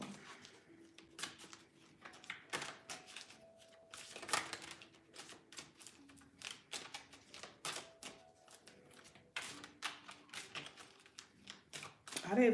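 Tarot cards are shuffled by hand in quick, crisp riffles and taps, with bursts of rapid clicking broken by short pauses, while someone talks quietly over them.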